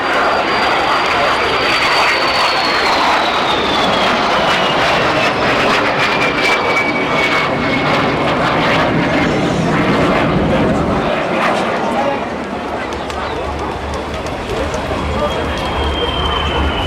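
A de Havilland Vampire FB.52 jet fighter at an air show, its engine roaring loud and steady throughout with a whining tone that slides downward as it passes, then eases slightly near the end; voices murmur beneath.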